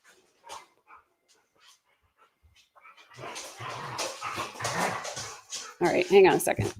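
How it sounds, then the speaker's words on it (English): Dogs barking and whimpering indoors, scattered faint yips at first, then louder overlapping barks and whines mixed with a person talking nearby. "Sorry for my dogs."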